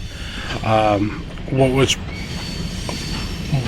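Tail end of a passing train rumbles and rattles steadily nearby along a northeast Alabama rail line, while someone speaks briefly over the running noise.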